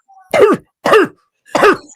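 Three harsh, barking coughs from a nearby voice, each short and rasping with a hoarse, seal-like bark, separated by brief pauses; an imitation of a croup cough.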